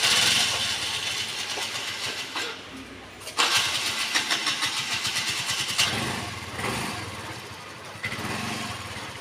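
A scooter engine runs steadily during riding practice outdoors, its motor droning and rising slightly as the throttle is eased, close and continuous beneath a voice giving instructions.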